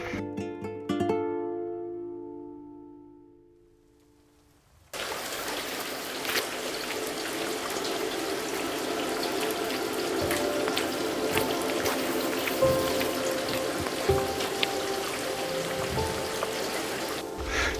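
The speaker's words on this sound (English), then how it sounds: "It is starting to drizzle a bit heavier" Rain falls on the Camino de Santiago, a dense, steady patter and trickle close by that starts abruptly after a few seconds of quieter tones, with no talking.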